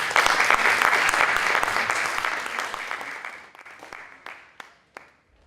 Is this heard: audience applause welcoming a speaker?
yes